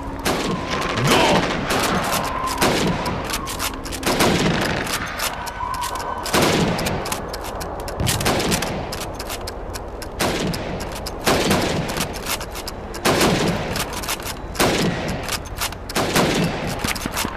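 Rifle shots are fired at helmets in the Call of Duty 2 video game, a rapid series of loud cracks at irregular intervals over the whole stretch, with no talking.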